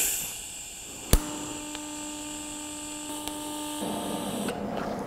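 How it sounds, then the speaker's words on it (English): A TIG welding arc runs steadily after a sharp click at the start, a sustained buzzing hum with fixed tonal lines holding for several seconds before cutting out, then a faint hiss remains. "I press the button once, and then the weld starts until I press it again"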